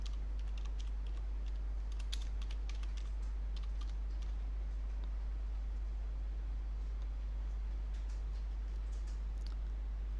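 Keys clack steadily on a computer keyboard as a command is typed, a continuous patter of light taps over a constant low hum, with no voices.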